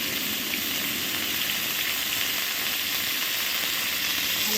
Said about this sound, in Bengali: ফুলকপিগুলো একটু ভেজে নিচ্ছি হালকা ভাপিয়ে নিয়েছিলাম এখন আমি ভেজে নিচ্ছি